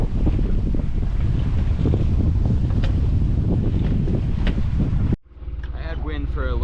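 Loud, steady wind buffets the microphone aboard a sailboat at sea for about five seconds, a broadband roar with gusting bursts, then cuts abruptly to quieter cabin or deck sound with a voice speaking.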